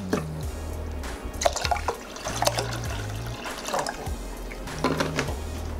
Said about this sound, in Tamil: ஸோ தண்ணி ஊற்றிட்டோம், தண்ணி வந்து கொதி வரணும்.